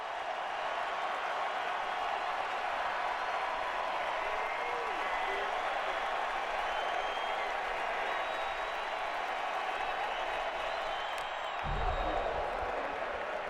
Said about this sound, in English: And now again the Fenway crowd trying to keep the dream alive.